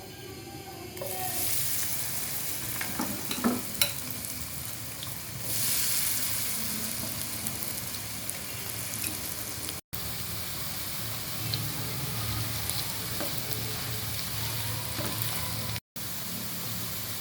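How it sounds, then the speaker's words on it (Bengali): Carrots fry in oil for vegetable manchurian, giving a close, steady sizzle that runs the whole length, with a few scrapes and stirring knocks early on. "এবার সেম তেলে গাজর ভেজে নেব"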